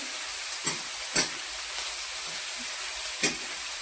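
Onions sizzle quietly in a pan for a pumpkin curry, a soft steady frying hiss broken by a few sharp scrapes of stirring.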